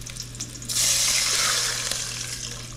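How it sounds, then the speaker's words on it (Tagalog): Tap water runs steadily into a pot for boiling eggs, a loud continuous splashing hiss that starts abruptly and carries on over a faint steady hum. "Lagyan natin tubig."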